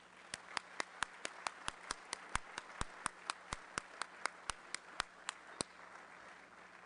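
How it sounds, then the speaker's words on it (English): About two dozen sharp, evenly spaced claps ring out one at a time at a Rotary Club of Denver meeting, crisp and fairly loud, then stop. "Please give our club leadership a round of applause."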